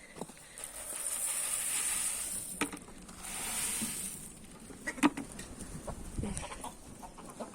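Chickens clucking and murmuring close by, with soft scratching and pattering noises in between, no talking.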